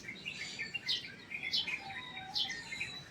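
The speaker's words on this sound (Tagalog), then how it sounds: "Ang huni ng mga ibon." Several short bird chirps ring out over a soft outdoor background, spaced irregularly, moderately close and clear.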